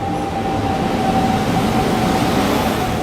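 An express train from Secunderabad to Shalimar, hauled by a WAP-7 locomotive, rolls in with a steady low rumble and a faint sustained tone, close and continuous throughout.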